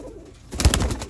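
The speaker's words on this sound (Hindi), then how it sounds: "फेमस सियालकोटी चूहे कबूतर, खाकी चूहे बोलें, स्लेटे चूहे बोलें।" A Sialkoti pigeon gives a single short, low coo, close and fairly loud after a quiet moment.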